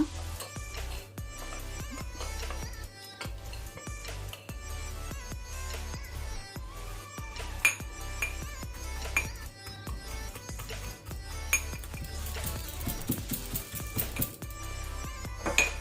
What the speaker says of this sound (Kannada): ಉಪ್ಪು ಸಹ ಇದರೊಟ್ಟಿಗೆ ಹಾಕಿ ನಾವು ಕ್ರಷ್ ಮಾಡುವ.